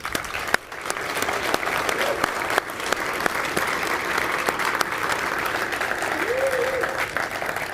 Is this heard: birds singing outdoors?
no